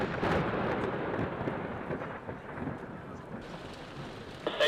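A thunderstorm with close lightning pours rain over an outdoor film set, steady hissing rainfall with low thunder rumbles and faint voices in the background.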